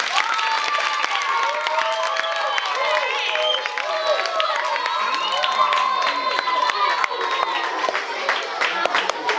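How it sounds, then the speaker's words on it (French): Audience applause and cheering at a school prize-giving ceremony for laureates, steady clapping from a crowd with many overlapping children's shouts and voices throughout. "Applaudissons pour nous-mêmes"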